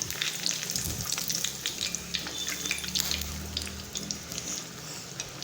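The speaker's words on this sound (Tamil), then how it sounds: "திருப்பி போட்டு இன்னும் கொஞ்சம் கோல்டன் நல்லா ப்ரௌனாக மாறுற வரைக்கும் நல்லா ஃப்ரை பண்ணிவிட்டு எடுத்துடலாம்" A paneer roll sizzles steadily in hot oil, a close, continuous crackling fry with brief clinks of stirring and no voices.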